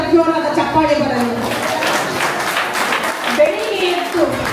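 An audience at a Kannada community gathering claps for the participating women, a dense burst of applause running throughout, mixed with voices and someone speaking.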